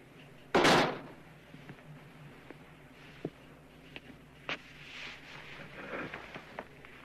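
A door slams shut once, a loud close sharp thud near the start, followed by a quiet room with a few faint knocks and small movements and no talk.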